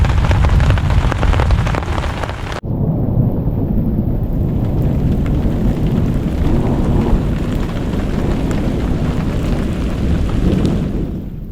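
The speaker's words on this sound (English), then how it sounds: "It's still raining" Heavy rain from a thunderstorm pours down steadily and loudly, a dense roar after a brief burst of louder noise at the start, at a campsite in Temagami.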